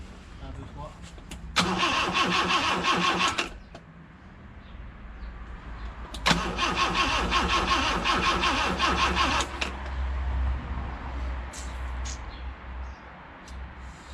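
Barn-find car with a carburettor being started, two long bursts of rhythmic cranking with a low engine rumble lingering afterward, while people talk nearby.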